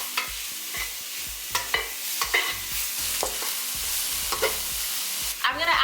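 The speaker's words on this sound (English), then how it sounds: "You're gonna toss your onions and your garlic in here until it is nice and fragrant and a little translucent." Garlic and onions stir-frying in a wok for fried rice: a steady sizzle broken by repeated clacks and scrapes of the spatula tossing them, close and fairly loud.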